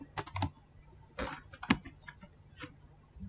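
Typing on a computer keyboard while entering an Excel formula, a few quiet clusters of key clicks with short pauses between them, close and without speech.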